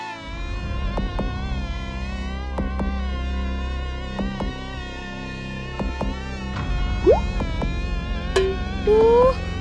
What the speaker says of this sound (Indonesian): Banyak nyamuk.